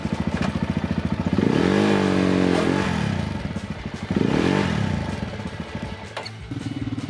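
Motorcycle engine revving hard while the bike is stuck in mud on a rough rural track between Santa Isabel and Murillo, Tolima, with two loud drawn-out rev surges, steady idle pulses between them and some clatter, close by.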